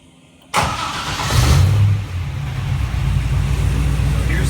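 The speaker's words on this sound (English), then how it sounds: "So here's the regular Magnaflow rear exhaust." 1965 Corvette with an LS3 engine running through its regular Magnaflow rear exhaust, starting with a sudden loud burst, then settling into a close, steady, deep rumble at idle.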